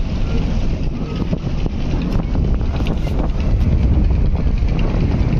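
Strong, steady wind buffeting the microphone outdoors on the Buriganga River near Sadarghat, a continuous rushing roar with a faint boat engine hum beneath.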